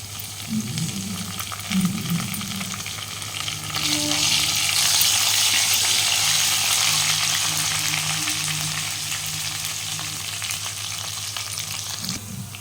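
Onions and mint leaves frying in a pan for a chicken fry, a continuous close sizzle that swells into a louder hiss partway through, with faint stirring and no speech.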